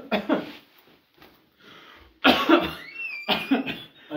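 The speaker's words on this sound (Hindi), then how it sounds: "आपकी खांसी बहुत दिनों से ठीक नहीं हो रही" Repeated harsh coughing comes in several clusters, close by, with short breathy pauses between fits.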